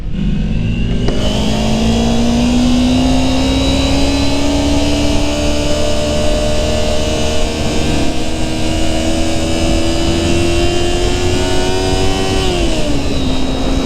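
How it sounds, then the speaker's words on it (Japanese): A Kawasaki Ninja 250 twin-cylinder motorcycle pulls under way with its engine note climbing steadily through the gears, loud and continuous, with wind rush and no speech. "エンジンの音が楽しい。"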